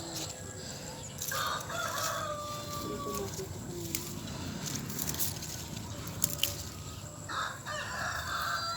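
Chickens cluck and a rooster crows at a vegetable garden, several drawn-out crows and scattered clucks at moderate distance over rustling background noise, without clear talking.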